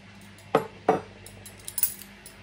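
Metal cutlery, a spoon, fork and knife, is picked up and set down in a kitchen, giving two loud close clinks followed by several lighter jingles and taps.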